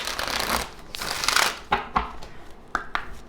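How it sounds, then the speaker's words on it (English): Shuffling of an oracle card deck during a card reading, close papery riffles and rustles in a steady stretch, then several sharp separate slaps and flicks of cards, with no talking. "Let me do a small shuffle on this deck."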